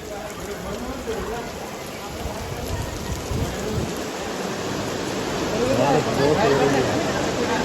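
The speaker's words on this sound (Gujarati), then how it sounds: "ફૂલ વરસાદ ચાલુ થઈ ગયેલો છે" Heavy rain pours down at a work site in a dense, continuous hiss that swells louder toward the end, with people talking underneath.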